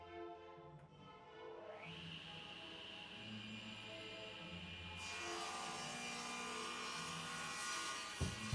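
Oak table legs from an old oak headboard being cut to final length, a faint, continuous grinding cutting noise that builds and grows brighter partway through.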